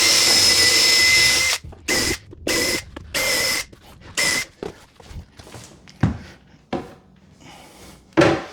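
A power drill bores pilot holes into a cabinet during a custom base cabinet installation, running in a steady whine first and then in a series of short, close, loud bursts separated by brief pauses.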